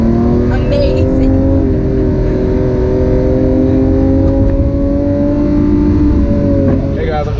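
Lamborghini Aventador S V12 engine holding a loud, steady high-revving drone, close and sustained throughout, with a voice talking over it.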